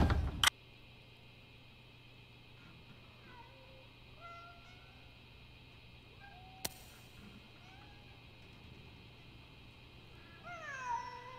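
Several kittens meow in a cyberpunk ghost-story video game, their thin, rising cries scattered across a quiet room tone with a faint steady hum, a sharp click near the start and middle, and a cluster of quick mews at the end.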